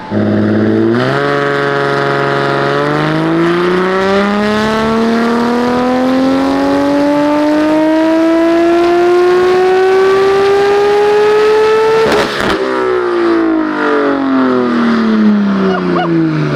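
A tuned 900 hp built-engine BMW M4 revs up in one long climbing sweep, holds high, then drops abruptly and winds down, close and roaring with no talking.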